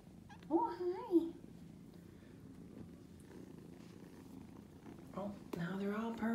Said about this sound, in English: Oh, now they're all purring.